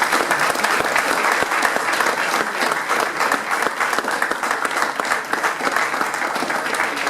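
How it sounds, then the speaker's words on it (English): Sustained applause fills a room as an audience at a football club's end-of-season awards night claps steadily and loudly for the whole stretch. "Can we all give them a big round of applause?"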